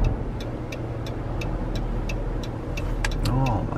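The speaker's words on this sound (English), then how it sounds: "Oh, my traffic." Road traffic flows past on a car trip, a steady rumble of vehicles with a car passing close near the end, while a person talks over it.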